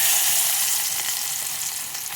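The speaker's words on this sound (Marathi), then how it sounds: "आता आपण ह्याच्यामध्ये लसूण ॲड करूया" Garlic sizzles loudly as it hits hot oil in a pan, a dense, steady hiss that carries alone for the whole moment and eases slightly toward the end.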